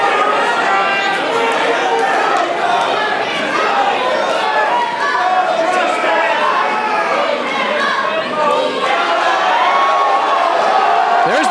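Wrestling crowd at a Central States Wrestling show, roaring and chattering steadily with scattered shouts and whoops, a loud dense wall of voices that never drops out.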